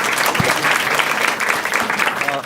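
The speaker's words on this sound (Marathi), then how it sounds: "एकदा टाळ्या वाजायच्या आधी सगळ्यांनी" A live stand-up comedy audience claps in a dense, loud burst of applause that carries on steadily for a couple of seconds and then begins to fade.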